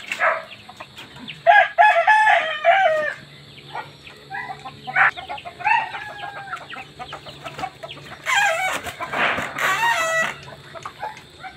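Aseel roosters crow repeatedly among clucking chickens in a farm pen, with several loud, overlapping crows rising from a steady background of hens.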